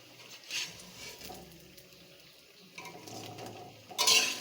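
Fried raw-banana koftas are lifted out of hot oil in a pan, with faint sizzling, scraping and clinks of a utensil against metal and a brighter clatter at the end.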